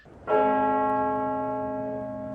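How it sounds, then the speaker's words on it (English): A single deep church bell, at Windsor Castle or St Paul's Cathedral, tolls once, loud and close, its rich ringing tone hanging and slowly fading over the following seconds. "the bells at Windsor Castle and St Paul's Cathedral tolling in her honour"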